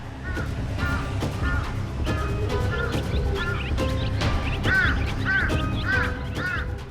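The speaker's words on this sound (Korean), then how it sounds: "요란한 울음소리로 철새들을 내쫓는 까마귀." Loud, harsh calls of a large-billed crow ring out repeatedly, several in quick succession over a steady outdoor background, growing more insistent toward the end as it chases off migratory birds.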